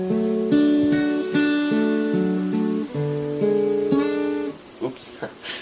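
Fingerpicked acoustic guitar plays a verse arpeggio, clear, close and alone, single plucked notes ringing in an even rolling pattern before trailing off into a few quieter handling sounds.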